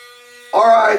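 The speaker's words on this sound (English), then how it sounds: "we're done with this half of my face with the Panasonic ARC 5" A Panasonic ARC 5 foil electric shaver switches on halfway through, then buzzes loudly and close with a steady high hum while shaving a face; before it starts there is only a faint tonal hum.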